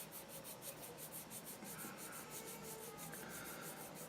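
Hand sanding of plastic Tamiya Calsonic Skyline model kit parts, a quiet rhythmic rasping of rapid back-and-forth strokes, close and continuous with no voices.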